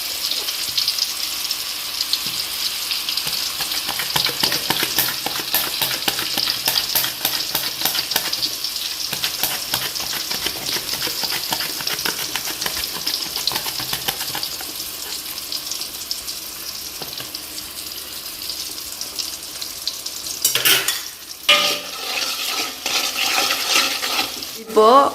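Slices of raw plantain fry in hot oil for chips, giving a continuous crackling sizzle. The pieces are stirred now and then, and a louder burst of splashing and scraping comes near the end.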